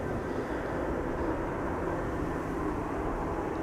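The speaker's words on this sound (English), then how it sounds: "Small quote-unquote bizjet over here." Small business jet at Amsterdam Schiphol Airport producing a steady, broadband engine roar that holds at constant loudness throughout, like an aircraft rolling or passing at moderate distance.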